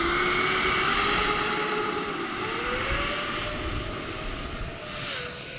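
A model jet aircraft powered by a turbine spools up to full throttle and takes off, its loud, steady turbine whine rising in pitch and holding close, with a brief swell near the end and no talking.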